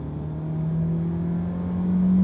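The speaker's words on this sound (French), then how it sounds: "on prend la voie à 30 km/h, on se met en mode sport et on met gaz" A Tesla Model 3 accelerating hard in sport mode gives a steady electric motor whine that rises in pitch over a continuous road and cabin rumble, heard from inside the car.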